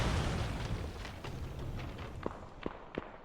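A grenade blast in a PUBG esports match rumbles low and heavy, followed by scattered footsteps and small sharp pops in the game's soundscape.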